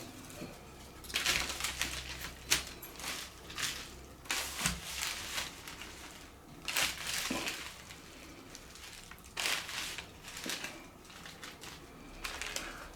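A plastic bag is peeled away from a doner kebab wrap in several crinkly rustling bursts, close and fairly loud, separated by quieter pauses.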